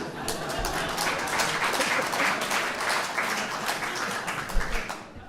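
Audience applause at a study day event: a dense, continuous patter of many hands clapping, steady and moderately loud for several seconds with no voices.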